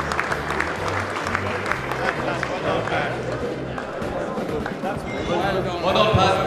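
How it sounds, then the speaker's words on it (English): A GAA challenge match audience applauds the man of the match as he walks to the stage, a broad steady clapping from a crowd with chatter and a voice talking over it. "give Pat a huge round of applause as he comes to the stage"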